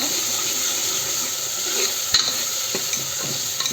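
Dal tempering is stirred and mixed in a pan, producing a loud continuous sizzle with a few brief scrapes and knocks of the spoon near the end; no one speaks.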